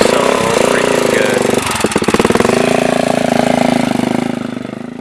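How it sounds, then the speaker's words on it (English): A Suzuki DRZ 400 dirt bike engine on a track with a whoop section, loud and steady, its buzzing single-cylinder drone rising and falling as the bike rides past. "Now, doesn't that bike sound good, you guys?"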